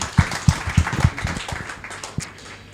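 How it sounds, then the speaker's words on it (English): Applause from an audience at a football club fans' forum, with a handful of distinct claps up front followed by scattered, thinning claps that fade out over a few seconds. "we'll give a nice round of applause for Craig Stewart"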